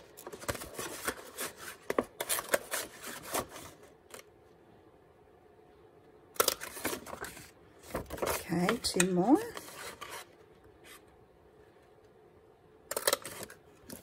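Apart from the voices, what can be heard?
paper punch punching edges of paper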